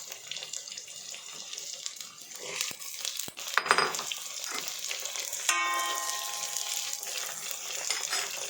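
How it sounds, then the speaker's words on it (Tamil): Tomatoes and green chillies sautéing in a pan for a Tamil sardine curry, a steady hiss with a sharp clatter partway through, continuing close and moderately loud with no talk. "ரெண்டு தக்காளி ஒரு அஞ்சாறு பச்சை மிளகா போட்டு வதக்கணும்"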